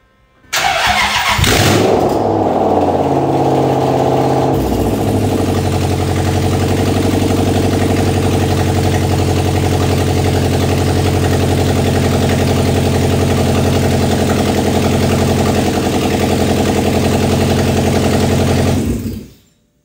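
A Toyota 3UZ V8 swapped into a Volvo 245 cranks and catches after a brief starter whirr, then settles into a steady, loud, close idle that holds for the rest of the clip before cutting off at the end.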